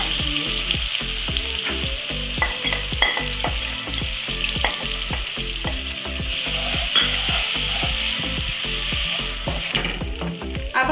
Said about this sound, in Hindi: लहसुन अदरक के पेस्ट के साथ हम सारा मसाला डालेंगे।